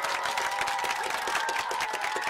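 Steady crowd clapping and cheering from cartoon children applauding their team, dense and continuous throughout, with no talk over it.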